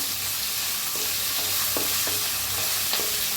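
Green chilies and curry leaves frying in a pan for a raw mango rice dish, giving a steady loud sizzle with occasional soft stirring scrapes, no voices.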